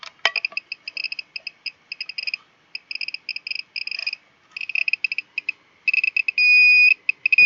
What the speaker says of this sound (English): that's the high radiation alarm